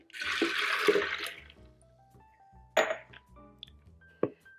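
Two cups of water poured over raw cashews for nut milk, a rushing splash up front, then clinks of a glass container and a few sharp knocks, close by with no talk.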